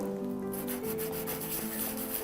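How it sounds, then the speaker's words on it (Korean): Edge of an acrylic keyring rubbed on sandpaper laid on a desk, close scratchy back-and-forth strokes repeating under soft background music. "이렇게 책상 위에 사포를 두고"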